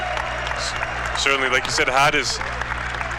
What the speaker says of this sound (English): Titans get a round of applause there for their efforts defensively to get back.